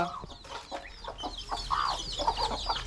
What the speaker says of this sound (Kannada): ಎಲ್ಲ ಕೋಳಿಗಳು ಕಿತ್ತಾಡ್ಕೊಂಡು ತಿಂತವೆ